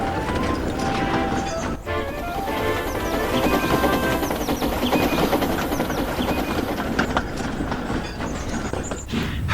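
A steam goods engine runs along the track, its rolling wheels giving a continuous rhythmic clatter and chuffing at a fairly loud, even level.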